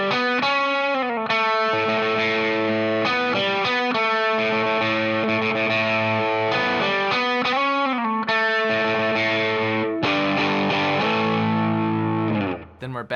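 Distorted electric guitar plays the march section of a song, a steady run of loud, sustained harmonic-rich notes with brief pauses between phrases, heard alone and close.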